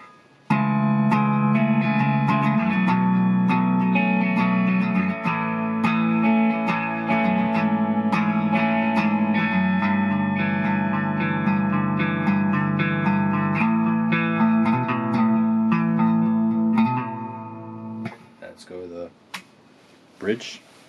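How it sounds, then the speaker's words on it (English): Dean EVO electric guitar played through an amplified tone, sustained chords and notes ringing steadily for most of the passage before trailing off into a few scattered string sounds and handling noise at the end. "pretty much gonna go through the tones of this guitar. Go through the middle, go through the bridge, go through the neck, clean tone, and like some rock tones"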